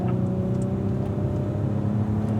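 A Cadillac V-series car accelerating on a race track, its engine a loud, steady low drone with rising harmonic tones as the throttle rolls on up to fifth gear, heard close from inside the car.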